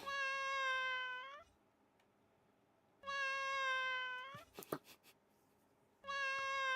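Three long, clear cat meows spaced a few seconds apart, separated by quiet gaps and a brief burst of clattering knocks in between, with no talk.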